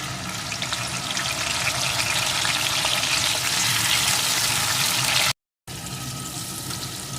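Slit green chilies and chopped tomato dropped into fried potatoes in hot oil, a loud, dense sizzle close by that cuts out briefly before resuming.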